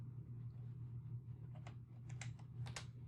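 Quick typing on a computer keyboard while entering a number for a C++ program: a short burst of several close, crisp key clicks over a low steady fan hum.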